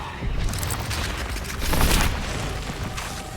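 A Confringo fire spell explodes in Hogwarts Legacy on Xbox Series X, a loud, dense booming roar that rumbles continuously and swells into a heavier blast midway before settling back, with no voices over it.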